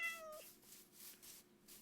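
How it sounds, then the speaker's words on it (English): A cat meows once in a video game, a short sad tone near the start over a faint steady ambient game hum, with no talking. "Oh, why do they make that meow sound so sad?"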